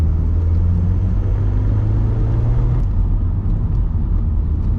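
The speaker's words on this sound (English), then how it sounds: "you can actually hear the turbo spool up" An Audi TT driven on a race track, engine note rising steadily under acceleration with a low rumble and a brief shift in pitch midway, loud and close throughout with no talk.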